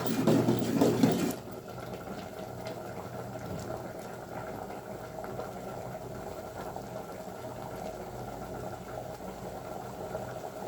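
A pot of semiya halwa simmers in milk, giving a faint, steady bubbling that follows a brief louder rush at the start.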